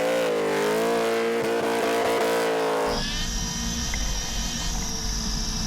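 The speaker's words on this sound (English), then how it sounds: "Listen to the punishment that he gives that engine." Burnout car at a Summernats Burnout Masters round in Western Australia, engine revving hard and sustained at the limiter, loud and close, with the pitch shifting abruptly midway into a higher screaming tone.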